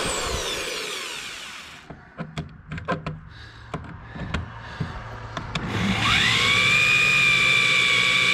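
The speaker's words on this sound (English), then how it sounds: "So we're drilling these holes quick by hand." Steel being drilled by hand with liberal cutting oil while building a winch mount for a car hauler trailer. Short grinding bursts stop and start in a workshop, then a sustained high whine builds near the end.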